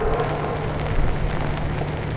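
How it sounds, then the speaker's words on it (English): Heavy overnight rain pours down steadily, a dense close hiss of drops on surfaces with a low rumble beneath, continuous and unbroken. "So much rain that by morning the river was impassable to the British"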